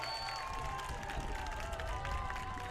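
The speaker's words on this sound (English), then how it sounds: "Wildcats will applaud towards the home crowd. Give them a big hand for all their support" Home crowd at a boys' high school soccer match applauding the Weslaco East Wildcats players on Parents' Night: a steady wash of distant clapping and crowd noise with a few whistle-like tones, under an announcer's voice.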